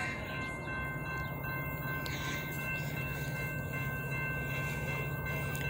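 Norfolk Southern freight train led by an ACe locomotive passing, a steady loud rumble of rolling cars with squealing wheel tones carrying through the whole stretch.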